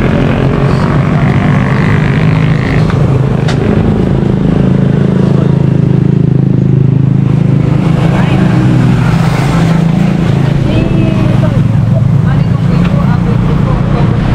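A 125 cc motorcycle engine runs loud and close in a steady rumbling drone, with people talking over it.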